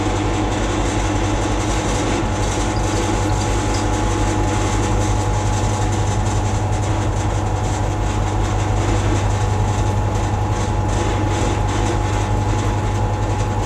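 A milling machine cutting metal for motorcycle gearbox mounts grinds with a steady loud hum and rumble, the chattering cut continuing evenly throughout without talking.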